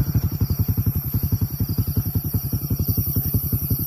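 A nearby motorcycle engine idling with a rapid, even thumping pulse that holds steady throughout.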